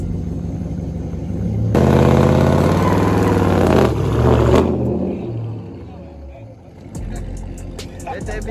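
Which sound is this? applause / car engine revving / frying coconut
car engine revving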